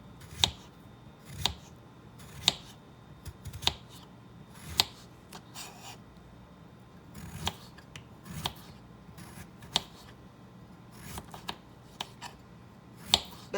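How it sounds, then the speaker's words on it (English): A kitchen knife slices potatoes very thin for a simple Southern potato dish, giving crisp, regular cutting taps against a board roughly once a second, close and alone. "I'm just using my knife and cutting them real thin"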